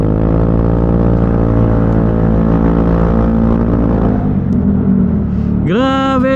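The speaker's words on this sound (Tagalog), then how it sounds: "Grabe, ganda ng tunog ko sa'yo. Parang halimaw." Close by, a Yamaha Fazzio 125 scooter with an aftermarket exhaust idles with a deep, even rumble, dips briefly, then revs sharply upward at the end.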